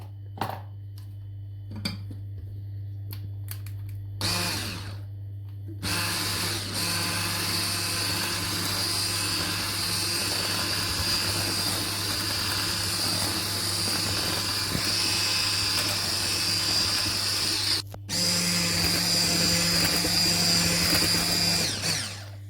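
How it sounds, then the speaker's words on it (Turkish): An electric mixer whirs steadily and loudly for a long stretch as wet cake batter ingredients are whisked, after a few brief starts and stops, with no voices. "Şimdi de güzelce çırpıyorum."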